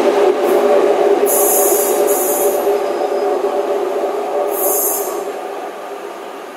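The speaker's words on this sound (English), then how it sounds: "this is a First Great Western service going from London Paddington to either Plymouth or Penzance" A First Great Western passenger train from London Paddington passes at Dawlish, a loud, close roar of wheels and engine with bursts of high rail squeal, gradually easing as it runs by.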